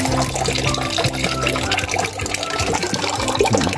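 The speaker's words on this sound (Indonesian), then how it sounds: "hanya menggunakan sirkulasi air masuk dari sini kemudian keluar dari sini, keluar ke sini" Water pours and gurgles continuously as it circulates into and out of a tilapia fish pond, a loud, close, churning splash with no pauses.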